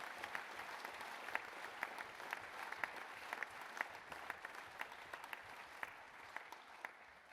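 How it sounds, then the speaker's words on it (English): At the POA annual conference, the audience gives a sustained round of applause for the volunteers who run security, a dense steady clatter of many hands with a few sharper claps near the microphone and no speech. "let's give them all a big round of applause."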